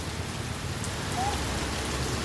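Steady rain falling and pattering on surfaces, a continuous even hiss with no voices present.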